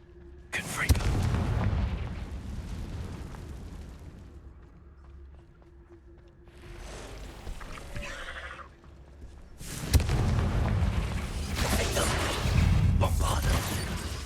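Confringo fire spells blasting in Hogwarts Legacy, a run of loud booming explosions with crackling bursts, a quieter lull midway, then a fresh heavy barrage near the end.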